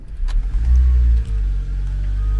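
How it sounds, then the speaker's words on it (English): A 2011 Honda CR-Z engine cranks and fires up, then rumbles loudly and close before settling into a steady idle. "Now so I can start the engine."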